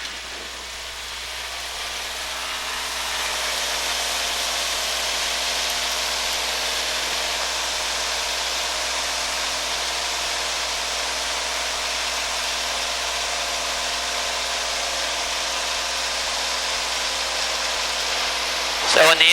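A Cessna 182's piston engine runs up to about 2,000 RPM, building over the first few seconds into a loud, steady drone that holds to the end.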